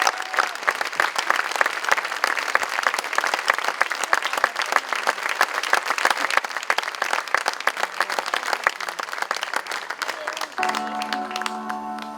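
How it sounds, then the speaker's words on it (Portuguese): Sustained audience applause fills a dance recital hall, dense and steady for about ten seconds before giving way to music at the end. "Palmas!"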